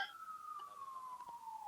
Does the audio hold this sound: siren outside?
yes